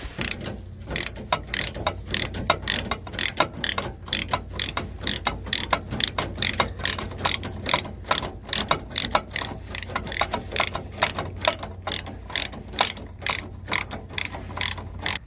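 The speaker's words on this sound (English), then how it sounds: "I'm about to go undo the other bolt now." A hand ratchet loosens a 17 mm bolt under a 2005 Nissan Frontier, producing rapid, close, repeated metallic clicking strokes in a steady rhythm that continues throughout.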